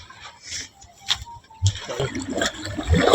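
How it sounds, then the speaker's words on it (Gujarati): Water bursts and splashes from a broken pipe in bursty surges, gushing louder in the second half, with a brief clatter and faint background noises around it. "પાણી ફાટમ ફાટ થઈ ગયું"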